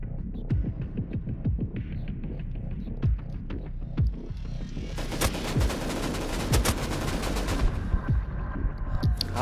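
Gunfire from a shotgun trap in Rust Console during an offline base raid defence: sharp single shots at first, then a dense, loud burst of rapid fire midway that carries on to the end.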